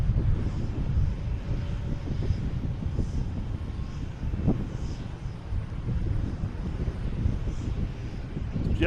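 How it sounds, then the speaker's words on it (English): A JetBlue Airbus A320 jet landing at Boston Logan, arriving from Fort Lauderdale, gives a steady broadband roar with low rumble that holds throughout, muffled by some wind noise on the microphone. "JetBlue A320 coming in from Fort Lauderdale."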